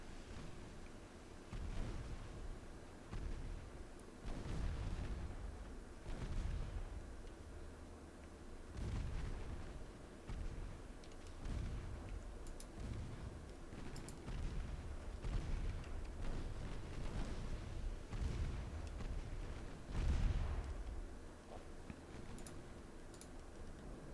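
Naval guns from warships firing at a transport and a cruiser in Ultimate Admiral Dreadnoughts, set in China 1964, come as repeated low booming blasts at irregular intervals over a steady rumbling background, with no talk.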